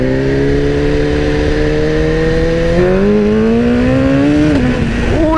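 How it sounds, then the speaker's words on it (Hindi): A BMW S1000RR motorcycle accelerates hard through the gears, its engine note climbing steadily and loud up close, with a quick shift near the end followed by the rising pitch resuming. "मैं उस पर आपको एक्सीलरेट करके दिखाता हूँ।"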